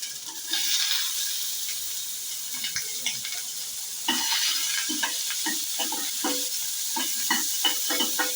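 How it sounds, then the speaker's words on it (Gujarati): Mustard seeds and cumin sizzle in hot oil for a Gujarati capsicum curry, a steady crackling hiss broken by frequent sharp little pops, close and fairly quiet. "આમાં તેલ એક પડી જેવું રેડી દીધું છે। હવે આપણે રાઈ અને જીરું લઈ લઈશું।"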